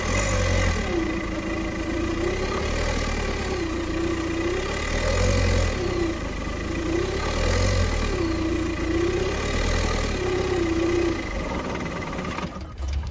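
A VW Tiguan diesel engine is cranked on starting spray, the starter churning in a steady, rhythmic cycle that repeats every second or so, close and continuous, without the engine catching.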